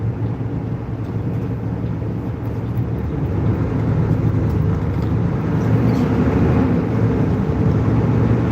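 Steady road rumble from inside a truck cab waiting near a car, a broad continuous engine and traffic drone that swells slightly louder midway, with no talk.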